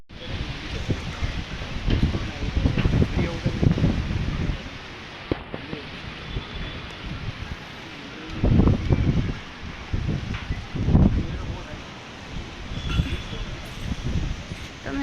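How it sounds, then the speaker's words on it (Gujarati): Strong gusting storm wind in Bhavnagar, India, roars and buffets the microphone, rising and falling in waves, with rustling, blowing dust and faint birds in the background, as rain approaches. "આજે ભાવનગરમાં ખૂબ જ પવન છે"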